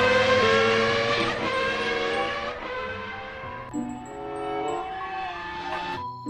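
A race car engine revs hard up close, its tone climbing and falling in a few surges as it passes. It fades toward a quieter idle and ends with a brief burst.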